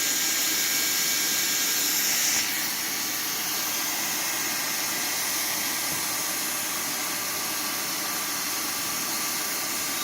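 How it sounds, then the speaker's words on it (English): A hot air walking welder fusing roofing membrane gives a steady, loud blowing hiss with a faint motor hum, continuous and unchanging throughout with no talk. "I'm going to switch to the walking welder method."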